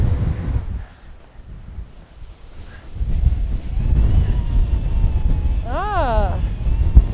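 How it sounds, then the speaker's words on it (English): Strong wind gusting beside a lake high in Rocky Mountain National Park in early March, a loud rushing roar that swells and buffets the microphone, while someone speaks through parts of it. "the gusts can be somewhat a little on the higher side"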